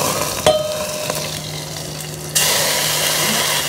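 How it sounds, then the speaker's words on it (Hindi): Hot oil crackles and sizzles as mustard and cumin seeds hit the pan, with a sharp clatter early and a louder burst of frying after a couple of seconds. "थोड़ा ऑयल डालते हैं, मस्टर्ड और जीरा का तड़का"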